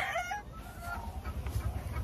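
Cockerels and stags clucking with a brief crow, a couple of short bursts close by, followed by low farmyard rustle and murmur.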